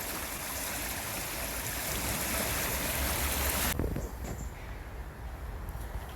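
Fast, high river water rushing through white water rapids, a steady loud broadband roar that continues throughout, with the intensity dropping somewhat partway through.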